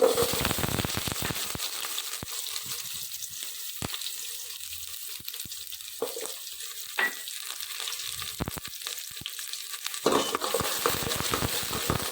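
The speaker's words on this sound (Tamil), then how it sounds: "கடுகு, பெருஞ்சீரகம், சீரகம் வச்சுருக்கேன், போட்டுடலாம்." Mustard, fennel and cumin seeds hit hot oil for sambar and crackle loudly, with a steady sizzle broken by sharp, scattered pops and bursts close by, and no voices.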